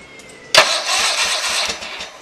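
A Power King tractor engine cranks and catches with a sudden burst, then settles into a rough, rhythmic running chug with a puttering low thump, close and fairly loud.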